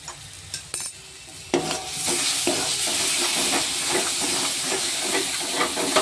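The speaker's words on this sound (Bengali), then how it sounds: "মশলাটা প্রায় ভাজা হয়ে এসছে।" Homemade garam masala spices fry in a pan with a loud, steady sizzle and hiss, after a few light clinks of a spoon at the start.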